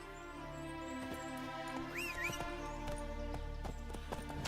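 Roach the horse trots in a video game, hooves clip-clopping in an even rhythm with a brief whinny partway through, over a faint background with game music.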